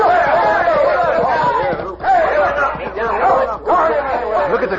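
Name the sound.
crowd tangled up in the mud, radio drama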